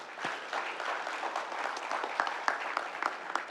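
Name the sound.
audience applause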